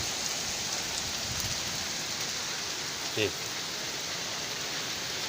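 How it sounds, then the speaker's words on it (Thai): Rain falls steadily in a steady, even hiss of drops that fills the whole stretch, with one faint brief sound partway through and no clear talking. "ฝนยังตกอยู่นะครับ"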